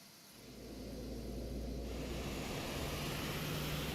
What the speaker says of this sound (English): Good start on engine number one.